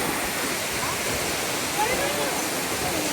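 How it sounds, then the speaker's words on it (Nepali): A waterfall roars as a steady, dense rush of falling water, loud and close, with no breaks across the whole short stretch. "झर्नाको नजिकै आइपुग्यौँ हामी"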